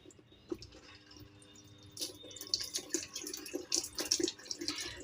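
Water runs and splashes into a washing machine drum as it fills, starting quietly then turning into busy, uneven gushing with drips and sloshes, moderately near.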